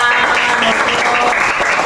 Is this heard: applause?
yes